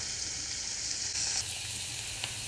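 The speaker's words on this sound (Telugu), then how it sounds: "మంచిగా వేయించుకోవాలి." Spinach stems fry in a pan with a steady, close sizzling hiss that holds even throughout, with no voices.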